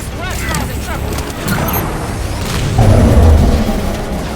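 A power core blows up in Halo 5: Guardians with a deep, heavy boom that builds and peaks near the end, layered over a dense rumble of mechanical battle noise and swooshes.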